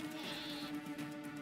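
A sheep bleats in a video game trailer, one drawn-out wavering bleat held over a steady background bed of music and ambience, at moderate level.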